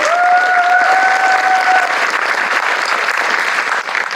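An audience at a film GV screening event for Green Night applauds loudly and steadily, a dense wash of clapping filling the room with a faint held tone underneath at first.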